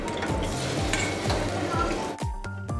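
Chicken sizzling in hot oil for a red Madrasi handi in a Lahore restaurant kitchen, a steady loud fry with rhythmic scraping strokes of a metal ladle against the pan.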